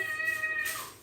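A cat gives a single short meow, close and clear, in a quiet kitchen.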